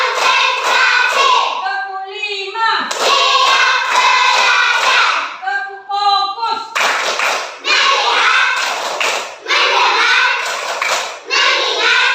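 A classroom group claps in counted bursts, rounds of quick unified hand claps broken by brief pauses, loud and close, with a teacher's voice calling the counts between them.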